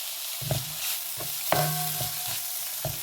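Shredded cabbage frying in a pan as a spoon stirs it, giving a steady sizzle broken by several clear scraping strokes and knocks against the pan, close up, with no talking.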